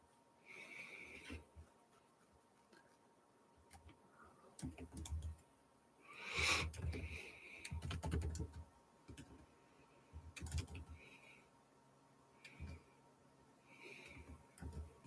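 Someone types a password on a computer keyboard in short irregular bursts of clicks, faint and close, with pauses between groups of keystrokes and a few louder clattering clusters.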